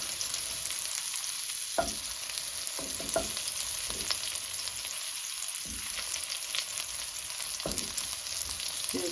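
Mushrooms fry in a pan with a steady, fairly quiet sizzle while a utensil turns them, leaving several short scraping strokes spread through the frying.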